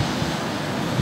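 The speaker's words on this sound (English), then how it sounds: "When you press the auto, the compressor and the motor are on." A softy ice cream machine's compressor and motor run together, giving a steady, even mechanical drone with a low hum that holds unchanged throughout, close and fairly loud, with no voices.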